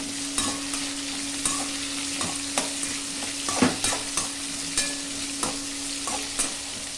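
Small onions sautéing in a pan, a steady sizzle under repeated sharp scrapes and taps of a spoon stirring them, close and fairly loud, with no voices.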